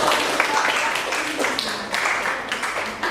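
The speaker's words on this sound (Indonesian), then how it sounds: "Kasih tepuk tangan buat" Applause from an audience after a class presentation in a teacher-certification performance test, a dense continuous patter of clapping held steadily at moderate loudness throughout, with no clear voices over it.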